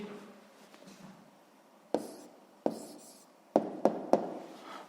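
A pen writes an answer to a sixth-grade maths exercise in short scratchy bursts, a few separate strokes after a quiet stretch, close and fairly distinct against a soft background hum.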